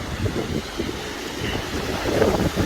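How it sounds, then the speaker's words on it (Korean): Strong wind blowing on the Jeju coastal road, a loud rough rumbling gusting against the microphone with a surf-like wash, continuous with no talk. "자, 오늘 바람이 꽤 붑니다"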